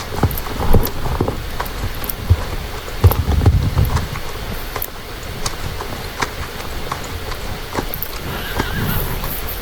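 Horse trotting with clip-clop hoofbeats in a horse-riding video game during a riding lesson, a neigh and steady rain-like patter in the background, close and moderately loud.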